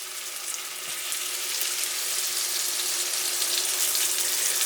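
Cold butter melting beside a steak in a hot frying pan, a continuous close sizzle that swells slightly and then holds steady, loud and alone.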